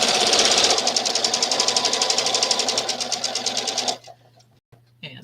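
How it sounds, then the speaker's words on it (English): Sewing machine running steadily at a fast, even stitching rhythm while piecing quilt blocks, loud and close, then stopping abruptly with a few brief handling sounds after. "I don't want to end up sewing my blocks the wrong way."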